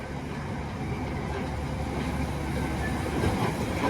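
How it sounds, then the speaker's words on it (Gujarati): Old-style toy train running at Kankaria lake in Ahmedabad, a steady close rumble of wheels and cars rolling past with faint rhythmic clatter, continuous and growing slightly louder toward the end. "છૂક છુક કરતી આવી ગાડી એન્જિન જૂના જમાનાનું હોય ને એવું લાગે છે તમને"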